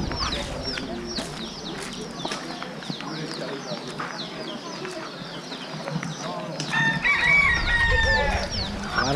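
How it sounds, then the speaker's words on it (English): Chickens cluck and a rooster crows repeatedly at a chicken farm on Oahu, Hawaii, loud and close, with people talking over the birds throughout. "Look at those chickens right there."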